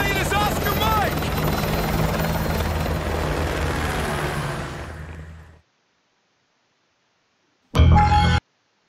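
Helicopter rotor and engine drone in Call of Duty Modern Warfare 2 Remastered, loud and steady for about five seconds, then fading into silence before a brief burst returns near the end; voices speak over the noise.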